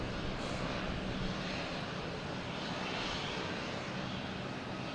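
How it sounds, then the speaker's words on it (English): An Aer Lingus Airbus A321neo jet near Boston Logan Airport gives off a faint, distant, steady engine roar with no voices. "We have Aer Lingus and A321neo heading back to Shannon."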